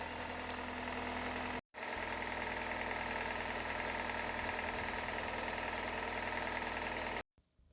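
A 2005 Toyota Corolla 1.8 engine idles steadily with a low hum and faint ticking, broken by two brief drops to near silence.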